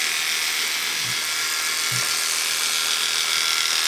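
Electric clippers run steadily through an Old English Sheepdog's coat, a continuous close buzzing hum with a couple of faint low bumps as the blade slides beneath the fur.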